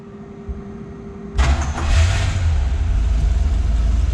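A fully restored 1967 Corvette L79 roadster cranks and fires at close range, catching abruptly into a loud, deep rumbling idle that settles and stays steady.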